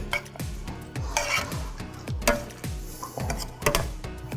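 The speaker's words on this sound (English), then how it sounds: "And you're gonna stir them again." Chili flakes are stirred in a metal pan with a utensil, giving a steady run of scraping, clinking strokes about twice a second, close and clear.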